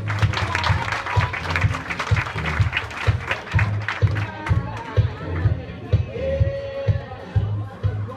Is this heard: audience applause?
yes